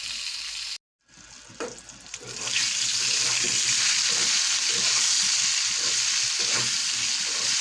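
Pointed gourd (potol) slices fry in hot oil in a pan, with a steady, loud, close sizzle that swells after a brief silent gap and holds with crackling spits throughout.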